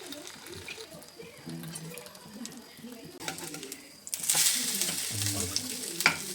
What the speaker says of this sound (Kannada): ಆಮೇಲೆ ಈ ಡಿಪ್ ಮಾಡಿರೋ ಬ್ರೆಡ್ನ ನಿಧಾನಕ್ಕೆ ಹಿಡ್ಕೊಂಡು ಹಾಕಿ ಅದಕ್ಕೆ ನೀಟಾಗಿ ಬೇಯಿಸಬೇಕು